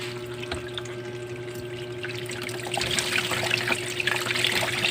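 Water pours and trickles steadily into a filterless catfish pond, a soft continuous splash over a low pump-like hum that grows a little louder toward the end.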